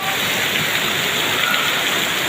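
Heavy rain pouring down, a dense, loud, steady hiss of water with constant spatter, close and unbroken throughout.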